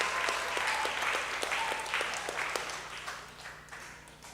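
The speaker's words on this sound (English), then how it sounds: "So a round of applause for her again" Applause at a junior school graduation ceremony, with a few nearer distinct claps at first, then fading gradually toward the end.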